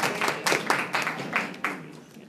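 A small audience in a school data meeting claps in a short burst of applause, a few uneven, fairly close claps with a light, thin crowd quality that fades after about two seconds.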